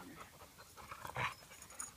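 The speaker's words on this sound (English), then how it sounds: "She's a female shepherd, maybe lab mix also." A female shepherd and Labrador mix dog pants softly in quick, breathy puffs, faint and close, with a slightly louder burst partway through and no voices.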